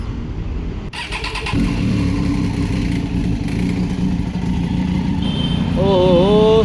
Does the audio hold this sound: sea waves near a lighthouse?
no